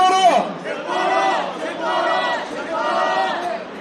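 Outdoor crowd at a political press-conference rally in Korea shouting a slogan in unison, three loud rhythmic chanted phrases one after another, voices blending into a strong collective roar.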